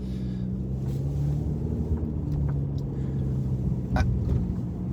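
A car being driven, its engine a steady low hum with road and wind rumble throughout and a faint squeak or two near the end, no talking.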